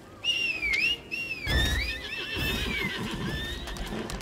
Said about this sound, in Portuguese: E esse cavalo aí, brabo?